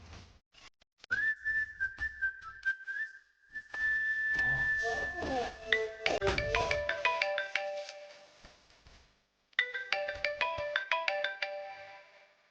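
Melodic mobile phone ringtone for an incoming call, a sustained tone opening into a looping bright jingle that repeats, stops briefly and starts again, fairly clear in a quiet room.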